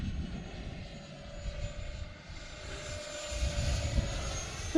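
A Thunderbird model jet flying over a runway, its engine a faint, steady distant whine with a slowly shifting pitch as it passes.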